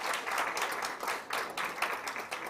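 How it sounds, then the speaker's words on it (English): Audience applause at a Rotary Club charter night, a dense sustained wash of many hands clapping that carries on steadily with no talk over it. "Let's give them a round of applause."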